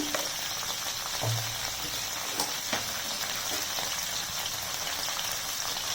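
Bitter gourd pieces sautéing in oil in a pan with salt, turmeric added, giving a steady, even hiss and sizzle throughout, with a few faint clinks of stirring and no talking.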